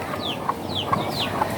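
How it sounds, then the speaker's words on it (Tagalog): A chicken gives a few short clucks at a roadside spot in Quezon province, three soft evenly spaced calls over faint background noise. "May manok."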